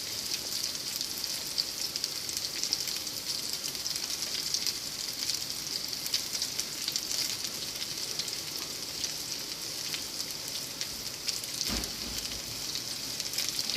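Pieces of blood sausage (boudin noir) frying in a pan with onion make a continuous bright, hissing sizzle, steady and fairly close, with a faint knock partway through and no one talking.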